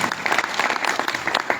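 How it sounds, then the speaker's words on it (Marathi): An audience at a village yoga gathering in Sillod, Sambhajinagar claps heartily in a dense, lively burst of applause that lasts throughout the short moment. "जोरदार टाळ्या वाजून अभिनंदन करा"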